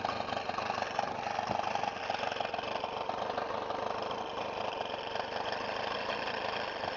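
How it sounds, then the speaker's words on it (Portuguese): A Moby motorcycle engine idles on a dirt road, a steady, fairly faint mid-pitched putter that runs evenly without a break. "A moto tá com a lenta, rapaz."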